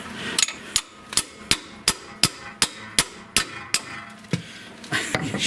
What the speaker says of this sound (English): don't beat your ratchets with hammers